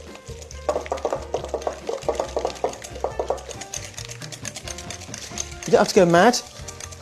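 A whisk clatters rhythmically in a bowl, beating cheese with condensed milk for tiramisu, a fast run of scraping taps under a person speaking.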